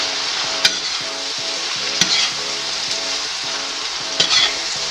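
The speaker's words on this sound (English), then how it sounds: "Let it simmer" Sisig, chopped pork in a hot pan, sizzles and bubbles steadily while it simmers, with a few sharp stirring clacks of the utensil against the pan. No talking is heard.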